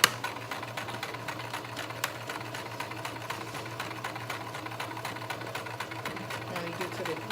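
A sewing machine stitches forward with a steady, even mechanical hum, moderately close, with a voice talking over it.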